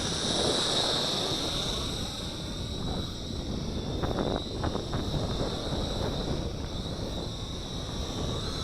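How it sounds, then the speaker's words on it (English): A large GoolRC T8C camera drone flying outdoors in wind gives a steady high-pitched motor whine that runs throughout, with rough wind buffeting on the microphone underneath, fairly loud and continuous. "I'm trying to do funnels with it in the wind here."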